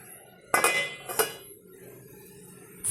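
Two quick metallic clinks close by as a lid is set onto a cooking pot, followed by quiet.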